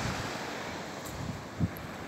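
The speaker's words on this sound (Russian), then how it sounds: "под ласковый шум прибоя, свежий морской ветерок" Steady, broadband wash of gentle surf and a fresh breeze on the Azov Sea shore, continuous and moderately soft, with a little wind buffeting on the microphone and no voices.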